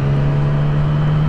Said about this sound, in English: It's the white. It's the white. It's a white van.